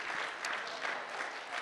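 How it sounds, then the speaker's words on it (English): Audience applause at a Bushwick Book Club mainstage show, a short, steady burst of many hands clapping together, close and fairly full, with no voice over it. "Keep clapping for them."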